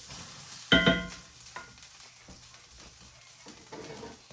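Venison hitting hot veggies in a cast iron skillet, a sharp metallic clatter then a sustained sizzle with light stirring scrapes, close and moderately loud, no talking.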